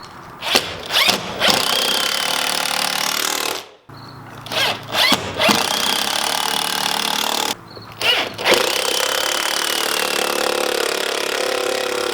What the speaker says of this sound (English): I'm going to run a 1 3/4 inch screw through that